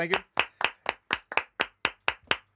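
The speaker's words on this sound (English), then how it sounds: "So please welcome. Oh, round of applause." Crisp, evenly spaced claps ring out close by, about ten in a row, welcoming the general manager of Amazon Egypt onstage, with no voices over them.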